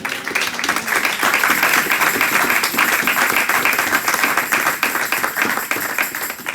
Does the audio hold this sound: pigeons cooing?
no